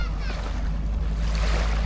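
Wind-driven waves lap and wash steadily on the Lake Toba shore, with wind buffeting the microphone.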